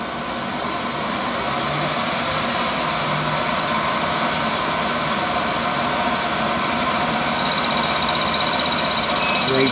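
A milling machine cuts a brake bleed valve with small milling cutters, making a steady mechanical whir and hum with a faint high whine that runs evenly throughout.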